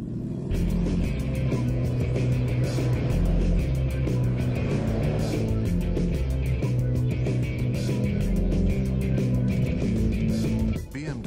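A BMW X5 driving on the Nürburgring test track, its engine note steady and loud throughout, with a sustained drone and rhythmic pulsing as it runs, fading slightly at the very end.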